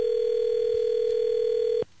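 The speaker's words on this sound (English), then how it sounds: "Pick up your goddamn phone, Ralphie." A steady telephone tone rings out loud and close on a studio line, holding one unbroken pitch for nearly two seconds before cutting off abruptly.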